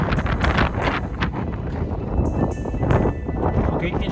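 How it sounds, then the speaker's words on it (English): Strong wind buffets the microphone while driving in Wyoming, a loud, gusty roar with constant rushing turbulence and no clear pauses. "Okay, it is so windy."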